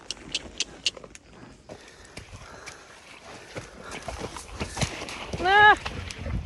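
A horse wades through deep floodwater after a cyclone, with irregular hoof splashes and clops, some louder close sloshes, and a person talking encouragingly throughout.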